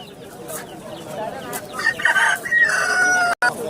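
Chickens clucking and a rooster crowing nearby amid a busy background murmur at a poultry market in Andijan, with a brief dropout near the end.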